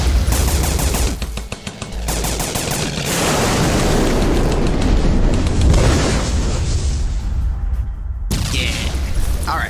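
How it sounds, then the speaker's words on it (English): Inserted explosion sound effect: a loud, sustained roar of booming rumble and crackling debris that runs for nearly ten seconds, dipping briefly before swelling again. "Ooh, yeah, Czar, insert explosion sounds here."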